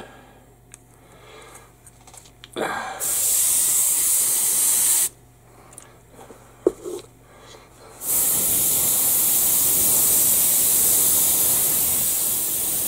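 Steady broadband hiss of an airbrush spraying AK Real Colors paint thinned with its thinner, in three bursts, two short ones then a longer continuous spray, with quiet handling sounds between.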